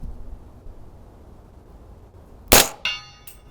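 A bullet strikes a steel target at about 50 yards on an outdoor range with a sharp metallic clang, followed by a second ringing ping and a faint third, over low background hiss.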